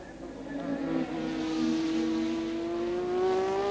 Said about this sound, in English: The next one through should be the Scarlet Ferrari of Stefan Johansson.